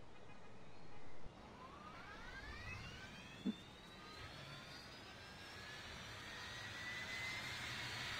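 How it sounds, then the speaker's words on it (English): An Airbus A380 in the Roblox game Aeronautica: faint jet engines spool up with rising whining tones that climb steadily, plus a brief click midway. The sound is quiet and continuous. "we've got here a Airbus A380"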